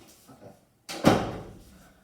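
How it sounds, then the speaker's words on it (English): An indoor door swings shut with a single sharp thud partway through, its knock fading into room noise, after a brief stretch of quiet with faint voices before it. "Close that door."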